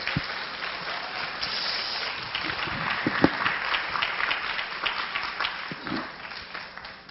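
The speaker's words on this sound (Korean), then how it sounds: "우리 큰 박수로 목사님 모시겠습니다." A high-school church congregation applauds to welcome the pastor; steady, moderately distant clapping continues throughout with a few sharper individual claps and faint murmuring.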